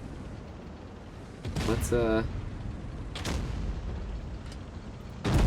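A tank fires high-explosive shells in World of Tanks Blitz: two or three sharp cannon booms with a rattling mechanical burst between them, over steady game background noise, with a player talking briefly.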